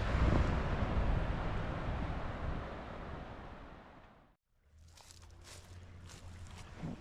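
Steady broadband rushing of creek water close by in Clarksville, Arkansas, breaking off briefly before resuming as a softer, babbling stream with light splashes.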